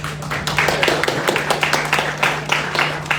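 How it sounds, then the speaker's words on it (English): An audience at a business group talk claps and applauds, producing a run of close, irregular claps at moderate loudness, with a steady low hum underneath. "Give her a round of applause."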